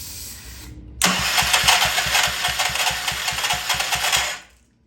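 A Troy Bilt Pony rototiller's small engine catches after a pull and runs roughly with a fast, uneven chugging idle before cutting out, loud and close, no talk.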